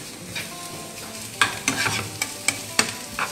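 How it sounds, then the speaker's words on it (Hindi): Onions brown in a hot pan while being stirred: scraping spatula strokes come in quick bursts over a continuous close sizzle of frying, with no talking. "मेरा प्याज तो यहाँ पर ब्राउन हो रहा है"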